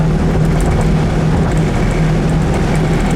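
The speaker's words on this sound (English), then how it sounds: "So you got a little wind noise there, but we also have about a 30 mile an hour wind today." Wind roars steadily through the window of a 1964 Buick Wildcat convertible cruising at about 65 mph on a gusty day, with a constant loud rush and low engine drone throughout and no voices.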